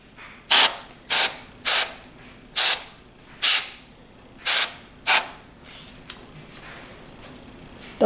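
Compressed air from a can blasts dust out of a computer case in seven short, loud, hissing bursts spaced about half a second apart, then quieter handling clicks.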